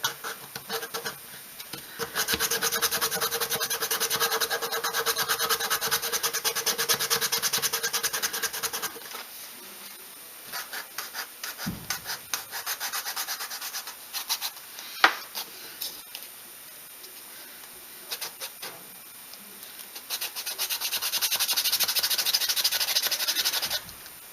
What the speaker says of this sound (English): You can just sand it a little.